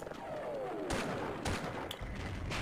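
Sniper gunfire in the Half-Life video game: several sharp shots crack out one after another over a steady dense game background, fairly loud and close, with no talking.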